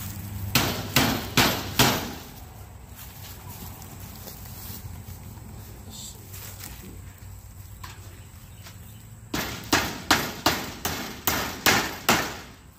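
A hammer drives roofing tacks into a turkey pen roof outdoors, with three sharp, close strikes, a pause with faint background sounds, and then a rapid run of about ten evenly spaced blows.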